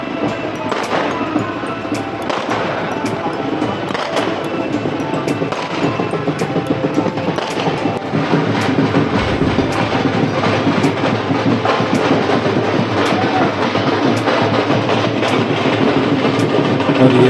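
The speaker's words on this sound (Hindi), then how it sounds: "ये बारात सामने आ रही थी और ये ढोल बज रहे थे और आतिशबाजी छूट रही थी" At an outdoor Indian wedding procession (baraat), dhol drums pound continuously while fireworks crackle and pop in sharp repeated bangs, loud and dense throughout with no pauses.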